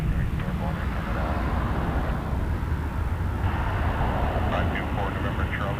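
A passenger airliner takes off from runway 05 at Toronto Pearson Airport, its steady engine roar continuous and moderately loud throughout, with radio chatter layered over it.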